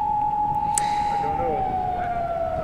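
Japanese police car siren during a chase after a truck on a road, a steady wailing tone slowly falling in pitch, fairly loud over road and traffic rumble, with a brief tap near the start.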